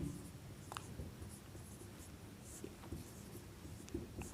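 Pen or chalk writing during a Class 10 maths lesson on linear equations, a faint, continuous scratching with a few small taps, heard up close over a low steady hum.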